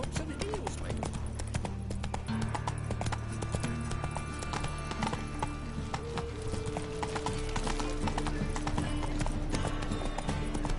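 Hooves of Roach, Geralt's horse in The Witcher 3: Wild Hunt, clip-clopping in a steady rhythm under a continuous bed of game music and ambience, with voices talking over it.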